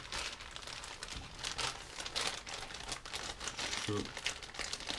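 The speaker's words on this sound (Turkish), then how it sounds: "vakumlu poşetinden de çıkartalım bakalım" Fishing gear being pulled from a crinkly plastic vacuum bag: close, loud bursts of crackling and rustling plastic come in quick irregular waves, with a brief spoken word.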